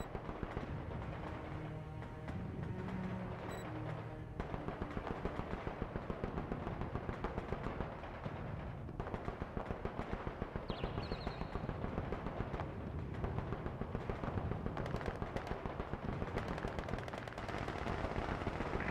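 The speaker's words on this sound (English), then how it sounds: "Taking fire!" Video game gunfire rattles in rapid machine-gun bursts and scattered shots across a dense battle din, steady and close throughout with no talking.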